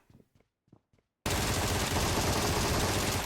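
After a second of near silence with faint murmuring, sustained automatic gunfire in PUBG Mobile erupts abruptly and roars on loud and unbroken to the end.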